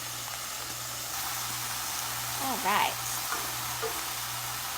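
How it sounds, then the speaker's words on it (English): Sea scallops frying in a hot pan beside acorn squash risotto, giving a steady soft sizzle throughout, with a brief spoken word and a faint voice partway through. "So that's sizzling nicely"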